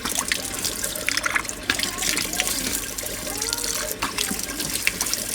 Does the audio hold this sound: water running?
yes